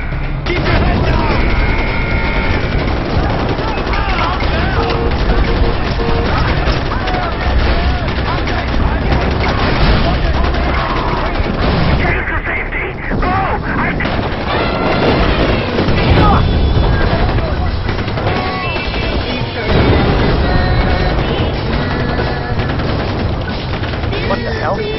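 Sustained gunfire and explosions from the video game Far Cry 4, a dense, continuous barrage of shots with booms throughout, heard alongside game character voices.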